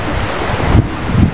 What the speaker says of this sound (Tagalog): Gumilid kasi kami dahil sobrang lakas ng alon oh.